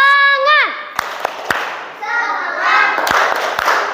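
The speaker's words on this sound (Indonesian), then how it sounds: "Tepuk semangat." Schoolchildren in an Indonesian classroom do a rhythmic clap-along cheer, a few sharp separate claps mixed with children's chanting voices, loud and close.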